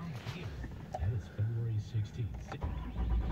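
A 2008 Dodge Ram 3500 Mega Cab dually 4x4 pickup with about 200,000 miles starts up in cold weather, the engine cranking and catching into a low rumble while someone talks close by.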